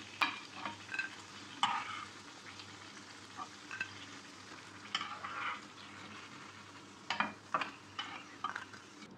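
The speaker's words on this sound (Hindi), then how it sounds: "अब मैं नगेट्स को तल लेती हूँ।" Homemade chicken nuggets fry in hot oil with a steady sizzle and scattered crackles, while a utensil scrapes and stirs through the pan in several distinct bursts; no one speaks.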